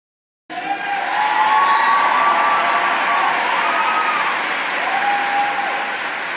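An audience cheering and applauding at a political rally, with loud, sustained clapping mixed with whoops and shouts that start abruptly and carry on throughout.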